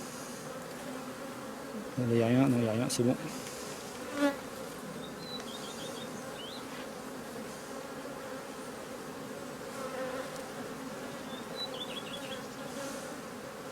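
Honeybees buzz around an open hive during an inspection for swarm cells, a soft steady hum with individual bees passing near the microphone, and a brief louder burst of buzzing early on; a person speaks quietly at one point.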